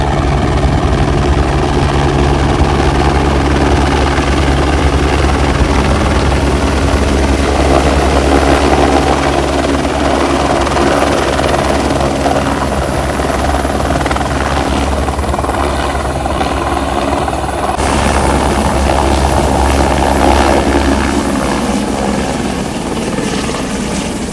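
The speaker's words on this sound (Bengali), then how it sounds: "একটা নতুন হেলিকপ্টার আসছে, দেখতে পাচ্ছ" A helicopter comes in to land near the Hemkund Sahib trek in the Valley of Flowers area. Its rotor and engine roar is loud, close and continuous throughout, with no talking.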